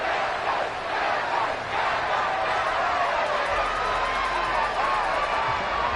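A large crowd in a football video game roars and cheers continuously, a dense wall of stadium noise with no break, loud and sustained.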